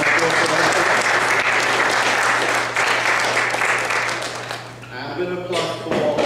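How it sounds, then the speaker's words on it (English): Audience applause after thanks to a whale watch company, during a WhaleFest conference talk, loud and sustained for about five seconds, then fading as a voice begins speaking; a steady low hum runs underneath. "so round of applause for that"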